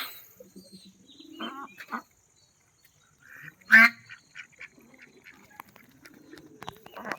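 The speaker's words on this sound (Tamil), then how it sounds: "நீங்க பாருங்க, வாத்துங்க" Ducks at a bird park quack in short, scattered bursts at a moderate distance, with one louder honking call standing out midway.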